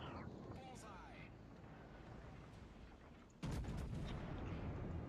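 Battleship main guns firing at a destroyer in the naval combat game World of Warships: a sudden heavy boom lands late and leaves a loud, sustained rumble behind it, while someone talks over the low ambient hum beforehand.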